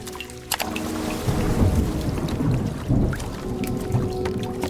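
Heavy rain pours steadily while deep thunder rumbles and rolls close by, a sharp crack breaking in near the start.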